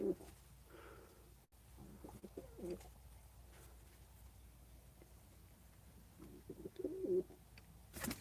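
Pet pigeons coo softly inside a coop, low bubbling calls in short bursts near the start and again toward the end, over a quiet background with faint shuffling and occasional knocks.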